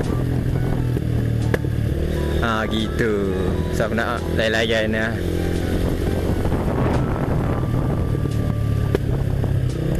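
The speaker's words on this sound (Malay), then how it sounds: "Mode anti-lag ni basically macam dia akan meletup kalau lepas minyak" A motorcycle engine idles and revs with sharp crackling anti-lag exhaust pops, while someone talks over it up close.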